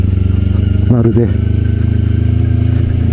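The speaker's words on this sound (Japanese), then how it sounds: "今一速ですよ、一速でこれでもエンジンブレーキ効かないっす。" Kawasaki Ninja 250 motorcycle engine braking downhill in first gear, a close, loud steady drone with a pulsing rhythm and a brief wavering rise in pitch, while a rider talks over it.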